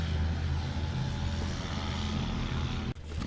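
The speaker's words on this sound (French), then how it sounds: "Qui c'est qui fait du bruit en tracteur pendant qu'on essaie de filmer une vidéo?" A tractor engine runs nearby with a steady, loud low rumble that holds throughout, then dips briefly near the end before continuing.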